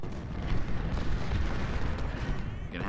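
Artillery fire in Ultimate General: Civil War during the Malvern Hill battle, a continuous low rumble of booming cannon shots and blasts, heavy and sustained throughout.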